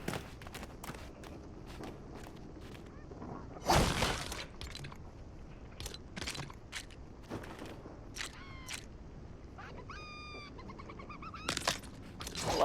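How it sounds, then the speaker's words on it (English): A chicken clucks faintly in the background of the LEGO Fortnite video game, with a few short clucking bursts heard among steady footsteps and sharp crunching, breaking hits. "I love that chicken. You can hear him in the background slightly,"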